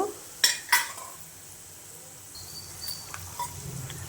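Coriander seeds, chana dal, urad dal and cumin are dropped into a hot pan and sizzle faintly, with a few sharp clinks and scrapes of a spoon against the metal.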